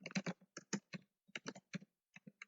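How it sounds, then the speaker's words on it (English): Fingers typing on a computer keyboard close by, with quick irregular clusters of crisp key clicks separated by short pauses, and no voices. "Let me just type the content now."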